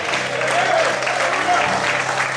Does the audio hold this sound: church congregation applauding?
yes